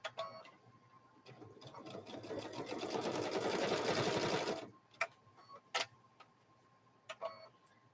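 A sewing machine back-stitches a quilted Grinch handbag in a short whirring run that speeds up and then stops, followed by a few isolated clicks and taps in a quiet room.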